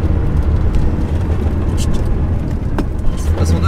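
A Porsche 911 SC engine drones hard on a race circuit at Lohéac, a constant loud low rumble heard from inside the car with wind noise, while a person talks over it.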